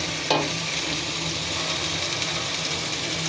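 Onion, ginger and garlic frying in a cinnamon-cumin tempering, a steady close sizzle that opens with a sharp clink of a utensil.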